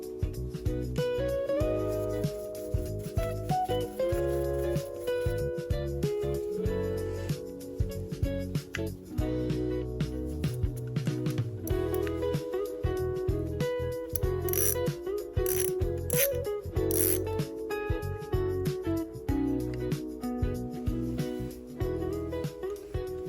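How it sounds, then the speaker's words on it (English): Brake caliper being removed from a Triumph Bonneville motorcycle, a continuous run of ratchet clicks, metallic tool taps and rattles, close and fairly quiet, with no one speaking. "I'm going to take the caliper off now, take out the brake pads"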